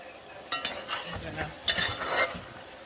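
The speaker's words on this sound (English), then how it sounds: "Stir it in, it's simmering down" A spoon stirs Heinz ketchup into a simmering black-eyed pea cook-up in a pot, with a few distinct scraping clinks against the pot over a soft, close bubbling sizzle.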